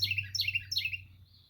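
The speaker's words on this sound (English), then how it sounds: "Loud bird." A loud bird chirps in a quick series of bright, repeated tweets close by, heard alone over a low steady hum indoors.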